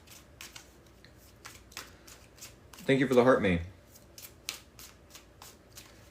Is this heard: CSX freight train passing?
no